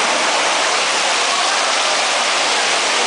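An indoor waterfall and small fountain at a bus terminal in Seoul pour without a break, a loud and even rush of splashing water with no voices over it.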